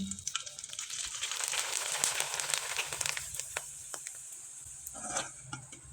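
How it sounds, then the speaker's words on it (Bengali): Flattened-rice (chira) pitha fry in hot oil with a steady, close sizzle and scattered crackling pops, continuing without talk. "এখন কয়েকটা পিঠা আমি আপনাদের ভেজে দেখিয়ে দিচ্ছি"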